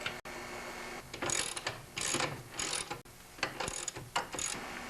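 A ratchet loosens bolts on the handle of an MTD snowblower, giving close, loud, repeated bursts of rapid clicking with brief pauses between strokes.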